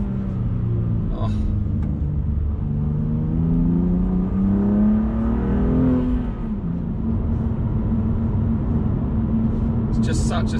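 A BMW M2 Competition with a manual gearbox revs hard while driving, its engine rumble rising in pitch through a loud sweep and then settling into a steady drone, heard close from inside the car.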